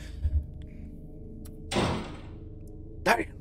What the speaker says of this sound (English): He slammed that thing shut.